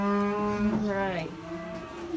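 Dairy cow on a ranch during milking gives a single drawn-out moo, close and clear, rising and then falling in pitch over about two seconds.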